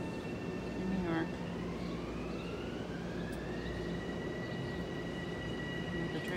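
A train passes near a station in New York, heard from a back porch as a steady low rumble with a long, drawn-out horn or whistle tone rising and falling over several seconds.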